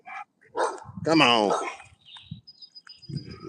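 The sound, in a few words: dog barking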